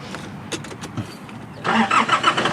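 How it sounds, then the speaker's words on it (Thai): A Nissan Navara pickup truck engine cranks briefly, then catches and roars into a rough, loud start close by. "มาฟังเสียงเครื่องตอนสตาร์ตเลย นี่กำลังสตาร์ตเลยครับ"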